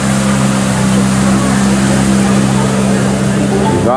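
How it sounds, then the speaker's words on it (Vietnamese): A motorboat engine drones loud and steady at close range on a river during a temple flower-offering festival, with no break throughout. "Rồi đây, cano thì em tính lái nha."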